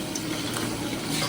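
Tempering seeds hit hot oil in a pan with a brief, dense hissing sizzle and faint crackling, steady and close for about a second, cooked for a curry of broad beans and tomato.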